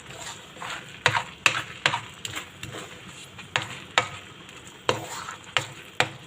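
Rice stirred in a pan, a spoon or spatula scraping and knocking against the metal in a steady series of sharp strokes over a soft sizzle, close and clear, no talking.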